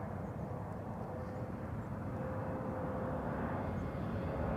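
Airliner arriving at Amsterdam Schiphol from Barcelona, a steady distant rumble of engines with a faint whine, even and unbroken throughout.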